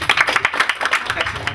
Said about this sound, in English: So a lovely round of applause.